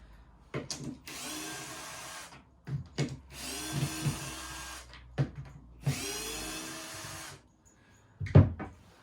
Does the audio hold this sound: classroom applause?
no